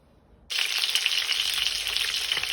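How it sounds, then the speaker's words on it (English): Sudden loud sizzle as fish hits a hot frying pan, then a steady crackling fry continues close by with no talking. "I have put my fish on the frying pan"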